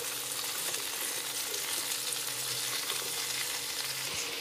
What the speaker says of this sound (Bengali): আলুগুলোকে 2 থেকে 3 মিনিট ভেজে নিয়ে কুমড়োগুলো দিয়ে দেবো